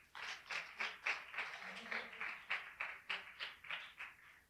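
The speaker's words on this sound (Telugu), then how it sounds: "కొట్టో చప్పట్లో." An audience at a Telugu Christian Lenten prayer gathering claps together in a steady, rhythmic beat, about three claps per second, continuing for several seconds with no voices over it.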